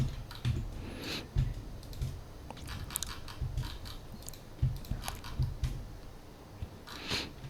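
Typing on a computer keyboard while drafting a curved house floor plan in SketchUp: a short run of keystrokes, a few sharper clicks scattered irregularly across several seconds, fairly quiet and with no talking over them.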